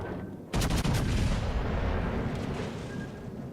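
Heavy naval guns from a warship in World of Warships Legends fire in a sudden loud booming salvo of several overlapping blasts, followed by a long, rumbling, slowly fading roar.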